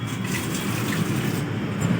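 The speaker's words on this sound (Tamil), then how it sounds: "நூடுல்ஸை வடித்து விட்டுட்டு அதில் கொஞ்சம் பச்சை தண்ணி எடுத்து ஊற்றணுமா?" Cold water pours and splashes steadily over drained rice noodles in a strainer, a close, continuous gushing sound with no talk.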